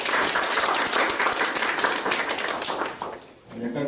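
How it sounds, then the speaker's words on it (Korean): Applause from a Korean startup forum audience, clapping in a dense continuous wash that fades briefly near the end before a voice begins speaking. "우리 박수 한 번만 더 부탁드릴게요."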